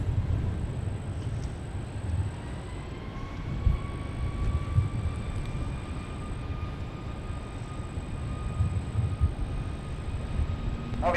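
An Icelandair jet on runway 12 right begins its takeoff roll as a distant, steady engine roar with rising whining tones that climb and sustain, heard alone at moderate volume.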